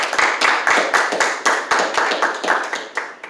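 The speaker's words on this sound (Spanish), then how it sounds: "Dale una ofrenda de palmas al Señor." A church congregation claps together in a steady rhythmic beat, repeated sharp hand claps in unison with slight reverberation, fairly close and without speech.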